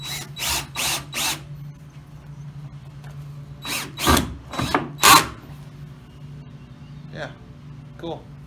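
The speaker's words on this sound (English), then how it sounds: "a pocket hole is a hole drilled at an angle" A power drill bores angled pocket holes into wood for a garden fence: several short, loud whirring bursts in two clusters with quiet pauses between them, followed by a couple of faint clicks.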